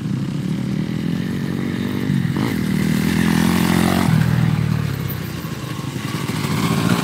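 A motocross bike at a Willowcreek riding school roars past at close range, with its engine climbing in pitch, peaking loud and then easing off before revving again, alongside some mechanical clatter and no talk.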